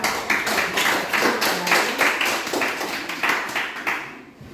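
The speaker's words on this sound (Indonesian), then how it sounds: "Oke, kita tepuk tangan." A group in a workshop session claps together in quick, rhythmic bursts, the close, loud hand claps rising and falling in a regular pattern before cutting off at the end.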